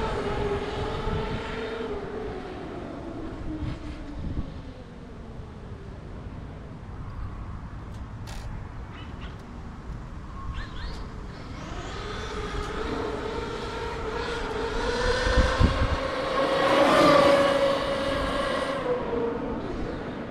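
A Traxxas X-Maxx V5 RC truck with a Hobbywing Max 6 G2 system runs at full throttle, its electric motor whine rising and falling steadily before swelling loudest near the end, with some rumble from the ground.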